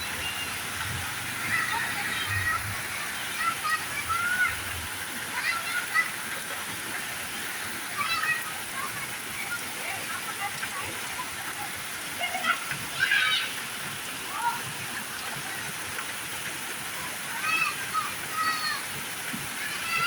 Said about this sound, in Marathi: 2 ऑगस्टला पाऊस असा पडतोय आमच्या नेरूळमध्ये